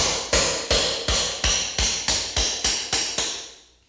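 Ten sharp metallic blows of a hammer driving a flat bar behind a casing, in a steady rhythm, each ringing briefly before the next strike, close and loud.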